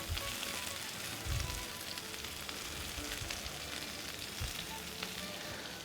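Spinach going into a hot frying pan for a noodle dish, giving a steady, close crackling sizzle with a few low bumps of the pan.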